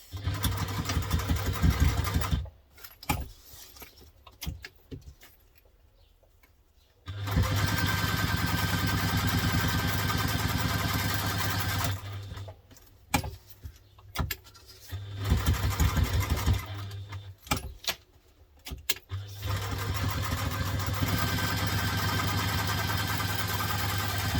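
A sewing machine top-stitching a lunch tote runs in long steady buzzing bursts, a rapid mechanical whir with clear stops and starts and short quiet gaps between runs.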